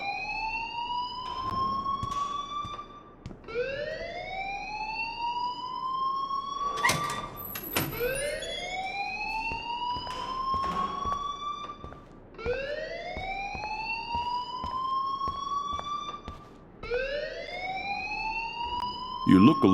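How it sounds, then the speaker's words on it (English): An electronic alarm rings in the video game Life Is Strange, a loud rising wail that repeats steadily about every five seconds and fills the whole stretch. "please turn off that alarm since that's your job"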